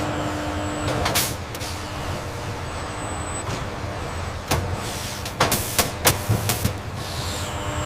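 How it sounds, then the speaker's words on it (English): Robotic welders spot-welding Porsche 911 underbody panels on a factory line: sharp hissing bursts and a quick cluster of clicking welds over a steady machine hum, fairly loud and close. "Robotic welders secure each part in place with rapid-fire precision welds."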